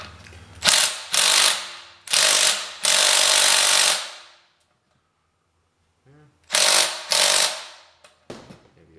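A ratchet with a 1/2 inch socket removing the muffler bolts on a Kohler KT17 engine, several loud bursts of fast clicking, then a quiet pause and two more bursts.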